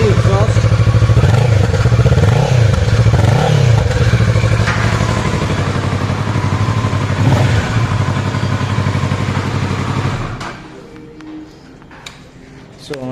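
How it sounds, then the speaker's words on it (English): A 2021 Kawasaki Versys 650 with an underbelly exhaust is blipped through several quick, loud revs at close range, then held at a rough steady idle before the engine cuts off, leaving quiet handling noises. "So that was the sound of the Versys 650"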